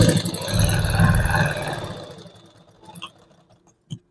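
Sewing machine stitching a blouse lining, a fairly loud steady mechanical whir for the first two seconds that fades away, followed by quiet with a few faint knocks.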